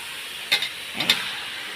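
Chicken hits a hot pan with two quick bursts of hissing sizzle, then settles to a low steady fizz.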